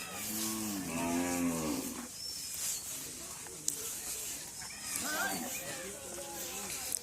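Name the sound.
cattle mooing beside the Padma river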